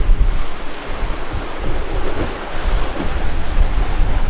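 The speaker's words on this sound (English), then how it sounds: "got a little more wind and wave than we anticipated last night" Wind gusts and breaking waves around a sailing catamaran on passage from the Bahamas toward Charleston, a loud, continuous rush with steady wind buffeting the microphone.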